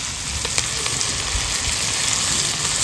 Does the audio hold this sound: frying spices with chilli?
yes